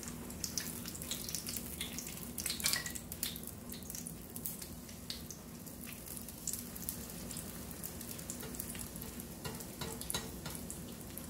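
Potato fritters fry steadily in a pan, a continuous close sizzle with soft crackles and a brief louder spatter early on, no talk.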